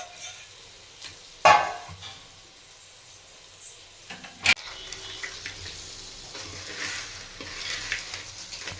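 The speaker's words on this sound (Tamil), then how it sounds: "நண்டை நல்லா அப்படியே கிளறி விடணும்" Crab being stirred into masala in a cooking pan, with a soft sizzle and scraping stir strokes, including a couple of sharper clanks near the start and middle, heard alone without talk.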